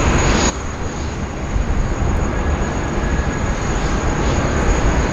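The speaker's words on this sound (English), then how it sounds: "Another cargo-only operator flight coming in." A cargo-only airliner at Sydney Airport sends out a steady, broadband roar of jet noise that holds at an even level throughout.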